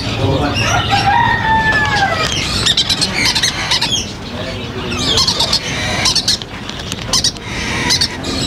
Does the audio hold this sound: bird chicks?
yes